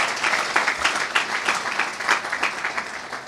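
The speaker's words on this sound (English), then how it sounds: "Let's give them a round of applause." An audience at a charter awards ceremony gives a round of applause, dense steady clapping with a slightly uneven rhythm, moderately loud and close.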